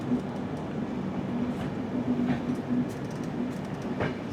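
The 16334 Trivandrum Veraval Express runs after leaving Rajkot Junction, a steady rolling rumble of wheels on rails with faint clickety-clack under it, heard from inside a carriage.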